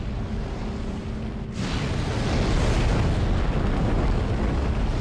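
A roaring burst of fire and explosions in the Dead Space video game, a loud, dense, sustained rumble that swells and keeps going without letting up.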